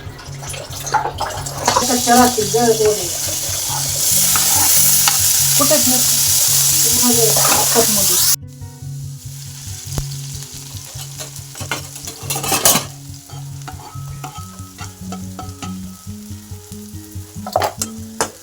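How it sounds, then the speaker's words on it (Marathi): Spices for fenugreek-leaf curry crackle and sizzle loudly in hot oil for several seconds, then the frying quiets while a clatter of stirring and kitchen sounds continues. "इथं मेथीच्या भाजीला आपण फोडणी देऊ"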